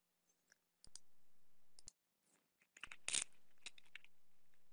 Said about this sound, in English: I can just double click it to launch it